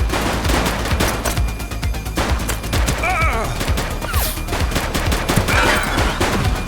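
Rapid gunfire from a shooting suspect in The Precinct video game, dense bursts of loud shots and impacts continuing throughout, close and chaotic, with brief game sounds mixed in.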